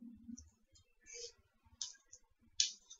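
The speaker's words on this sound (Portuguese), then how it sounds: "agora eu tô cortando o alho" A knife chopping garlic on a kitchen board sounds as a run of close, irregular taps and sharp clicks, with brief gaps between clusters of strokes.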